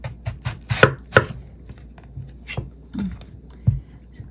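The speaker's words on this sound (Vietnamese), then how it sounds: "Giờ mình cắt xoài." A knife chops a large mango on a board, giving a handful of sharp, irregular close thuds and taps with pauses between cuts, set against quiet kitchen background.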